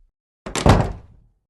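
A cabin door on a ship pushed shut, giving one close, solid thud with a brief rattle that dies away quickly, heard on its own with no talk.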